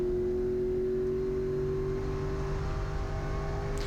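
Onboard drone of a GLTC race car engine under throttle during a lap at Gingerman raceway, a loud, steady, close hum holding a constant pitch for several seconds.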